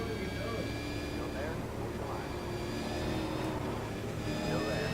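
Race car engine note from a V8 circuit car at Phillip Island, steady and loud throughout with sustained whining harmonics as it runs into a corner, under continuous commentary.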